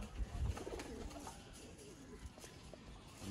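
Red-eyed rare breeder pigeons coo in soft, low murmurs, strongest near the start and then fading into a quieter steady background hum.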